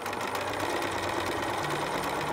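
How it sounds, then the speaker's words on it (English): A sewing machine runs steadily while topstitching a small preemie shirt, a loud, continuous, even whir close up with no pauses. "Now I can top stitch to where I started, and I just overlap by maybe 4 stitches"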